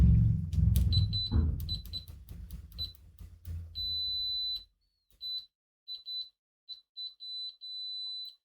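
A Siglent SDM3045X bench multimeter sounds its high continuity beep through its original test leads: one sustained tone, then a string of short, choppy beeps as the contact breaks in and out. Faint talking and handling noise come before the beeps.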